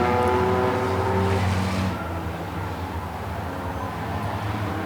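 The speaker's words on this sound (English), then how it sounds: "They do not sound like 6-cylinder cars." Hobby stock race cars roar around an oval track in a dense, loud pack, engines droning continuously with a louder surge at the start that eases slightly as they pass.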